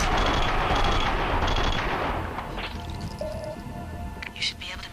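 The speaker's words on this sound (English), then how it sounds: "just firing these guns is a lot more explosive than it was in the first game" Loud, rapid Max Payne 2 gunfire rattles in a dense burst that fades out, followed by metallic clinks and a few sharp in-game effects, all close and under a voice.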